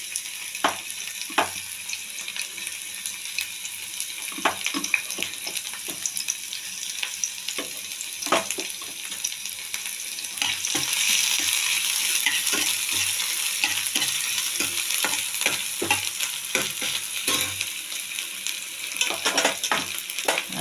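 Onion sizzles steadily in hot oil, with frequent sharp spatters and occasional stirring clicks throughout, the frying growing louder and denser partway through; no one talks.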